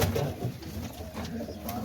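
Pigeons coo steadily at close range in a loft, the low throaty murmur running continuously through the short stretch with no talk.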